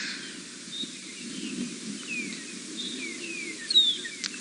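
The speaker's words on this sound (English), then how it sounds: "The magpie shrikes that we hear in the distance." Distant magpie shrike calls drift over a steady background hiss on a safari drive, a few scattered whistled notes and one sharper, nearer call toward the end.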